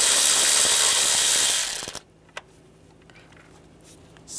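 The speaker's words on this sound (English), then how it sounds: "Now we can access that bolt, use the same 8mm socket." An 8mm socket ratchet works a bolt loose on a 2005-2007 Ford Five Hundred, with a dense rapid ratcheting rasp that ends in a few sharp clicks, then near silence with a faint tap.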